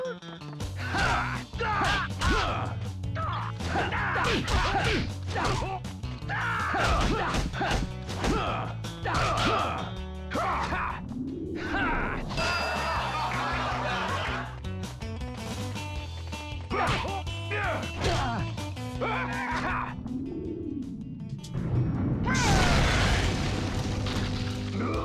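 Brawling in the PS2 beat-'em-up God Hand, with dense, loud game-fight audio of booming hits, crashes and impacts layered over constant music for the whole stretch, with no talking.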